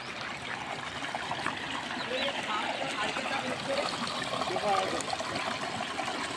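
Water rushes steadily out of the Jamoniya dam in Sehore, a broad continuous flowing wash heard at moderate distance beneath occasional speech.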